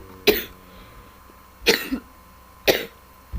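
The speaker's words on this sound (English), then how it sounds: "I got the cough." Three separate coughs, about 1.4 seconds apart, each a sharp harsh burst with a short rough tail, close to the mic with no talking around them.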